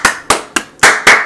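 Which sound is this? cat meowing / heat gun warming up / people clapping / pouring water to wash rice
people clapping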